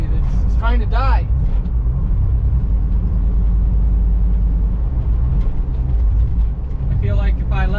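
A 1969 Plymouth Fury III engine runs rough and low, its heavy rumble steady throughout as the car struggles near stalling, with people talking over it at the start and end.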